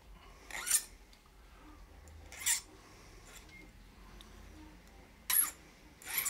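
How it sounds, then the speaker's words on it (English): Metal file rasping points off the end of a sterling silver ring shank, four short, separate scraping strokes, quiet and close, with silence between them. "take off these little points on the end just by filing them flat"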